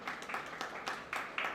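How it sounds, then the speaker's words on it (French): An audience applauding at a constitutional law lecture in Haiti, a moderate, fairly distant patter of clapping with rhythmic swells of hands. "Applaudissez-le encore une fois,"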